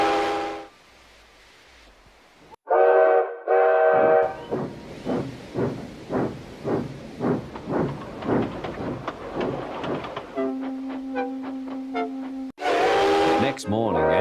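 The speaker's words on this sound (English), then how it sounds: "Gordon came clanking past, hissing rudely." A cartoon steam engine clanking past, a rhythmic series of chuffing bursts with steam hissing, framed by whistle tones near the start and end, fairly close and loud, with no talk over it.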